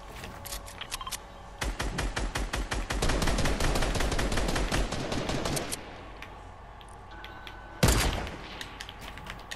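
Rapid gunfire in the Fortnite video game, a dense run of loud overlapping shots lasting several seconds, then a pause and one more sharp burst near the end; no talk.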